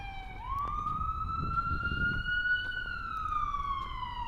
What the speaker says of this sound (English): got a little ambulance going by here.